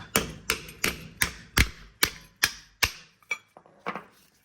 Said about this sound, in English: If the pads are kind of stuck in, you can use a hammer and just tap them out.